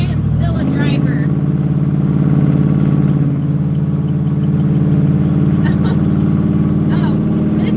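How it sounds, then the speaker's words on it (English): A loud, steady engine roar runs throughout, a continuous low rumble starting abruptly and holding without pause. "they can hear the roar of the engine"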